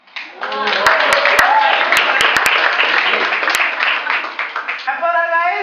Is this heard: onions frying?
no